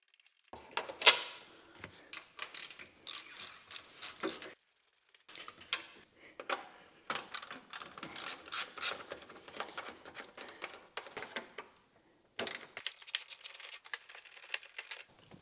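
Engine cover screws on an Acura NSX are loosened and taken out, giving close, irregular clicks and small metallic rattles with brief quiet gaps in between.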